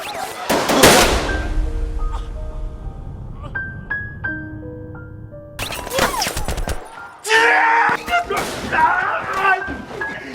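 Gunfire sound effect in a documentary about the Gwangju massacre: sharp loud blasts up front, then scattered reports and ringing tones, with a second burst of shots near the end over a speaking voice.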